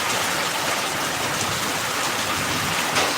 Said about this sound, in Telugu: చాలా వర్షం పడు ఇప్పుడు కొద్దిగా తగ్గింది